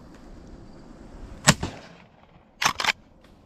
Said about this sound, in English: I give him 3 warning shots